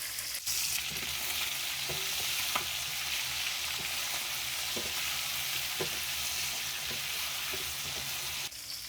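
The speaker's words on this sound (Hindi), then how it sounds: "लहसुन अदरक पेस्ट डालने के बाद हमने इसको 2 मिनट फ्राई कर लिया है।" Garlic ginger paste frying in a karahi, a steady dense sizzle with occasional light clicks and taps of stirring throughout, close and loud, no talking.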